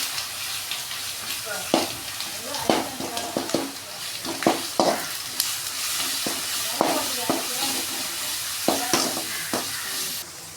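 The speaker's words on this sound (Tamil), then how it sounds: "நம்ம தட்டி வச்சுக்கிற பூண்டை போட்டுக்கலாம் பூண்டு நல்லா வதக்கிடலாம்" Crushed garlic sautéing in hot oil with curry leaves for a catla fish curry, a steady close sizzle punctuated by repeated sharp spatula scrapes and taps against the pan.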